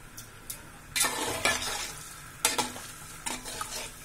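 Water boiling in a pot for mutton tahari, a hissing bubble broken by several louder bursts of splashing and clatter, close and alone.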